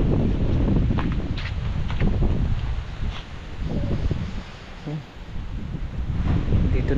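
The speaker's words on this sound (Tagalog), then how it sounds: "Lakas na naman ang hangin." Strong wind gusts across a calamansi orchard during irrigation, roaring and buffeting the microphone with a steady rush that swells and dips throughout.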